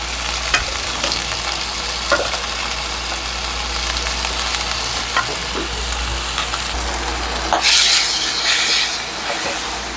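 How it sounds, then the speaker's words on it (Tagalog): Tenderized beef hits a pan of cooked onion and garlic, sizzling loudly and continuously with occasional stirring scrapes, a steady low hum underneath and no voices. "luto na yung sibuyas at uh, bawang, pwede nang ilagay yung pinalambot na karne ng baka"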